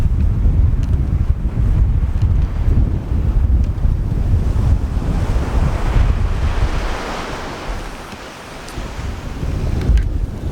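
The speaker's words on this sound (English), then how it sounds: "the wind has been ripping all day." Strong wind roars at a Carolina beach, with steady broadband gusts rumbling on the microphone and crashing surf underneath, loud and continuous for the whole stretch with no voices.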